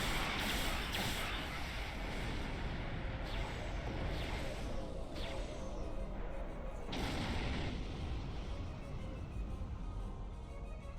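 Plasma torpedo fire in the Star Trek Online video game, a series of heavy booming bursts with rushing tails over a dense, loud space-battle rumble.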